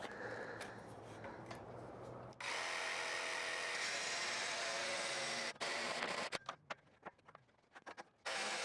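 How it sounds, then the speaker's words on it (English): Jigsaw fitted with a metal-cutting blade sawing through metal in a garage workshop, a loud continuous buzzing rasp that runs steadily for several seconds, then breaks into short stuttering bursts and stops near the end. "I'm going to use this jigsaw with a metal cutting blade in it instead of the angle grinder, hoping it gives me a little bit more control."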